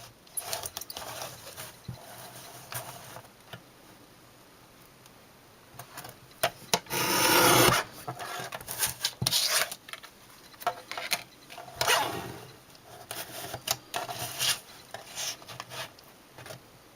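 Material is cut by hand in irregular bursts of scraping and rubbing strokes, with a loud sustained rasp around the middle and shorter ticking strokes after it, close and with no talking.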